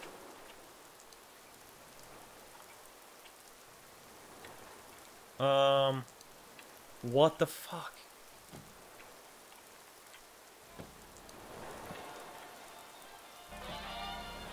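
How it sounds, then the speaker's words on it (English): Steady soft rain patter in the background of a video game, with a person speaking briefly and a few short tonal bursts cutting through. "It's still raining, though."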